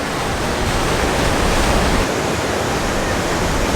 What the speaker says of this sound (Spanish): ahorita sí las olas están alebrestadonas